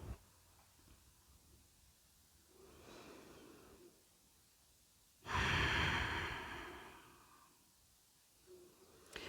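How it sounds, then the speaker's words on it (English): Slow, deep yoga breathing during a mermaid pose: soft drawn-in breaths and a louder, airy exhale in the middle, with quiet pauses between them and no talking. "Just big, full, deep breaths."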